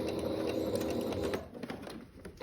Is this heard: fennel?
no